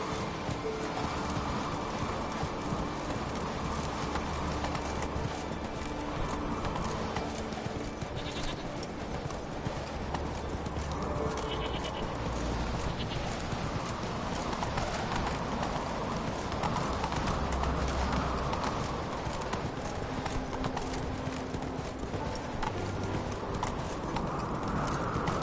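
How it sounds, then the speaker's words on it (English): Horse hooves trotting continuously in The Witcher 3 video game, a steady rhythmic clip-clop close by over ambient background sound. "Whoa there, Roach"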